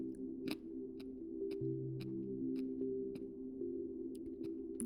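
Fresh pineapple core being crunched and chewed up close, with steady low chewing texture and sharp crisp bites recurring roughly every half second throughout, no talking.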